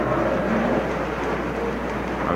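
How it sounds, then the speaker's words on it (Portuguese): Heavy rain in the PlayStation 2 game God of War 2, a dense, constant hiss of downpour with a low rumbling undertone, loud and unbroken throughout, no voices. "Caramba, tá chovendo muito aqui."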